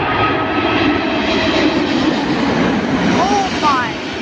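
An Emirates Airbus A380 jet airliner roars loudly and steadily as it comes in to land in crosswinds, its engine noise close and continuous over the whole stretch.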